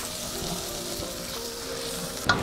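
Fresh tomatoes go into a hot pan of vegan taco filling, and a steady close sizzle of frying fills the clip before a brief louder crackle near the end.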